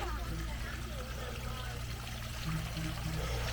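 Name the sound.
waterfall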